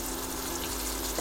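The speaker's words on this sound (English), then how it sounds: "Once the oil has heated, add the chopped onions" Chopped onions hit hot oil in a pressure cooker, giving a steady, close hiss and sizzle with no talking.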